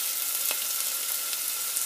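Chopped onions fry in oil in a pan with a steady, dense, fairly quiet hiss and a faint tap or two, heard close without talking.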